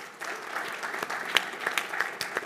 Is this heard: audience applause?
yes